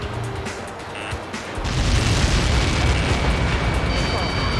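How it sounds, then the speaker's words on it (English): A large explosion in the flight combat video game Ace Combat 7 lands with a sudden deep boom, then swells into a loud, sustained rumble that fills the scene. "How many got caught in that explosion?"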